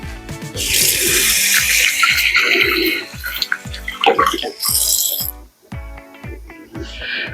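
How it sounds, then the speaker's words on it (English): Kitchen tap water splashing over a peeled beet as it is rinsed, a steady hiss of running water heard clearly under a musical background, briefly interrupted near the end. "I'll rinse it off."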